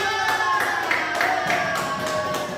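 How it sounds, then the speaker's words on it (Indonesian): A fourth-grade class applauds during a science lesson with quick, rhythmic group clapping, moderately loud and close, over a faint tonal hum in the room. "Oke, beri tepuk tangan dulu"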